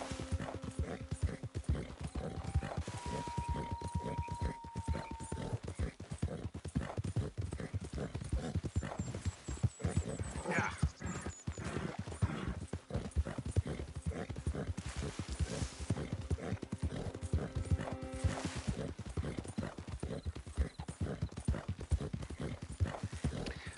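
Horse hooves clip-clop steadily and close in Red Dead Redemption 2, with occasional whinnies and faint tonal game sounds mixed in throughout.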